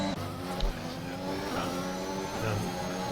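A Formula 1 car engine screams steadily through a lap on the Azerbaijan circuit in the F1 2021 video game, loud and continuous.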